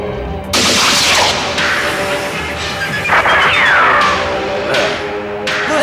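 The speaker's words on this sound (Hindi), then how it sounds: "ये देखो, ये गोलियां चल रही।" A Hindi crime TV serial scene with gunfire: loud, dense bursts of shots and crashing impacts over about six seconds, with a whistling streak partway through and no speech.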